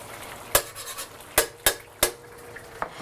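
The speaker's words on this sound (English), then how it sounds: "I can dig my spatula in now" A spatula scrapes and knocks against a pan while kabocha squash stir-fry is stirred, with several sharp metallic clacks spaced among quieter scraping, close and alone.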